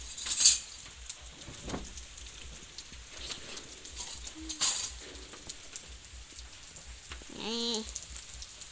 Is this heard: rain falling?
yes